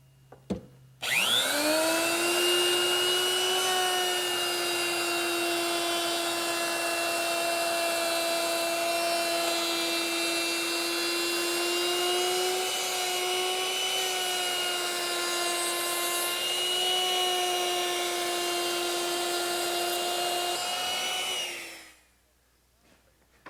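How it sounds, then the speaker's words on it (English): A router fitted with a 3/8 inch roundover bit eases the sharp edges of a wooden post for a Mission style sofa, spinning up to a loud steady whine that holds for about twenty seconds before winding down. "I'm going to use a 3/8 inch radius rounding over bit, and I'm going to hit all the sharp corners."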